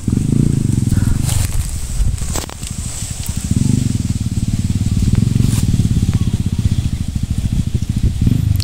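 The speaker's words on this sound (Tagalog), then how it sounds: "kanina pa ako may naririnig ng mga motor" Motorcycles near a river make a loud, throbbing engine rumble that dips briefly and then builds again, close by, with faint voices.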